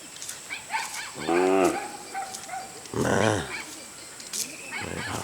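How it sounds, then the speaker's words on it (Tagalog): A dog barks and yelps a couple of times at moderate distance in a rural village in Libon, Albay, Philippines, with brief whimpering sounds and outdoor background noise between. "May aso."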